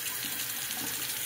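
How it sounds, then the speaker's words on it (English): Cold water runs steadily from a tap into a sink for rinsing a razor, a continuous bright hiss of flow with no break. "let's do a cold water rinse"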